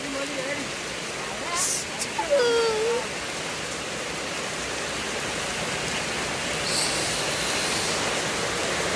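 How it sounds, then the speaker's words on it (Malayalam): Heavy rain pours in a steady broadband hiss throughout, with a brief voice-like sound and a few louder bumps near the start. "എനിക്കുണ്ട് നല്ല പെരുമഴയാണ്"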